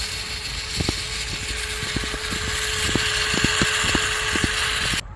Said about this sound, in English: let's check out the trail speed on this brushless system.